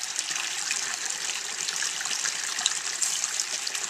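A Florida stream flows steadily, a continuous bright rushing and trickling wash, fairly close and even in level, with no talking.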